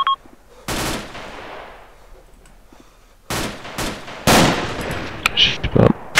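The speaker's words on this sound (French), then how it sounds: "je vois pas d'où vient le coup de feu" Gunfire in the military shooter ArmA II: sharp single shots and rapid automatic bursts, some loud and close, others fainter, with brief talk between them.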